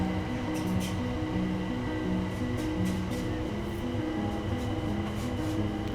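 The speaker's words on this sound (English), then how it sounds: "Wait till the train goes by." Steady low rumble and rhythmic clatter of a train rolling past, continuous and fairly loud throughout, with no voices.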